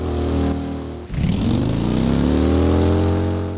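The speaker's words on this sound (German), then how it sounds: "Und schwupps wieder auf dem Motorrad." A motorcycle engine in the Ride to Hell video game drones steadily and loud, with a sharp throttle rise about a second in that climbs into a sustained rev with no talk over it.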